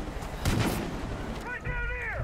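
A burst of gunfire in Far Cry 5 lands early, with a booming report over rumbling game noise, then shifts to whooping, sliding tones.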